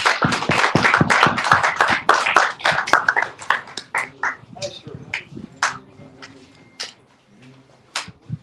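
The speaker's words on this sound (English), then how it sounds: "Give Most High a round of applause." Applause at a church service: a congregation claps in a dense burst that gradually thins into scattered individual claps, with voices mixed in.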